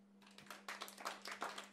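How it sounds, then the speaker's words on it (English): Scattered hand claps from a stand-up comedy audience, faint and brief, with a few irregular bursts that thicken slightly toward the end. "Clap your hands if you thought that Michael Jackson was innocent."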